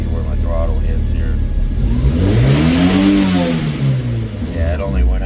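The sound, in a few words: car engine revving as throttle is pressed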